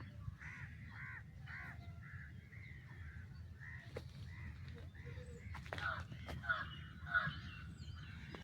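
Crows caw repeatedly in the early morning at Kadamakudi island in the Kochi backwaters, several harsh calls at moderate distance over a low rumbling background, with a few brief clatters and faint movement.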